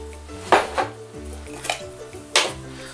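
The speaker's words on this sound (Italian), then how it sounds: "Sciacquati i pomodorini, come ho fatto io, li adagiate in una teglia da forno" Rinsed cherry tomatoes are laid into a metal oven baking tray for a baked pasta with feta. Light clinks and clatters sound at a few uneven moments against quiet kitchen background, with no talk.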